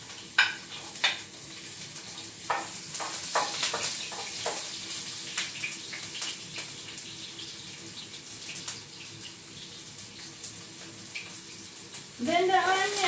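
Garlic sizzles in a hot pan after ginger, cooked for tinolang mussel, with a steady crackling fry, scattered sharp pops and stirring clinks, and a voice speaks near the end.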